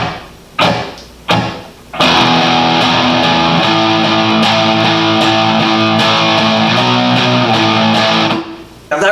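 Distorted electric guitar power chords: a few short hits at first, then a loud sustained riff ringing steadily with no talking, before stopping near the end.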